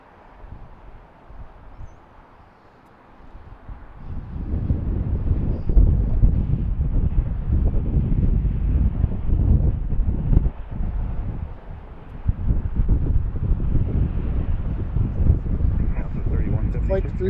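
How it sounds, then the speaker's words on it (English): Breezy, chilly wind at BWI airport buffeting the microphone, a low rumbling gust that swells after a quiet start and roars steadily on, dipping briefly near the end. "Quite breezy and chilly right now."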